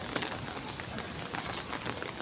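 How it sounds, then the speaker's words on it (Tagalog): Soft, steady rain patters on a surface with a constant hiss and scattered drip ticks, fairly quiet and unbroken. "Paano ba naman umuulan?"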